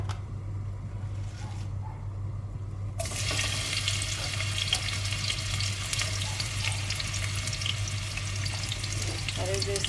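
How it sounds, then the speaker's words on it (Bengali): A curry of cauliflower, dried fish and beans sizzles in a pan, with a steady, close hiss that swells louder after a few seconds over a constant low hum. "ফুলকপি, শুটকি আর কি বলে এটাকে, সিম দিয়ে তরকারিটা বসিয়ে দিলাম"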